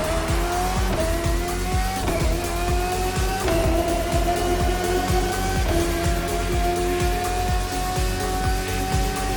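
Race cars in The Crew Motorfest video game roar steadily at high revs, their engine tones stepping up through repeated gear shifts, with tire squeals and skids over a constant loud drone and no talking.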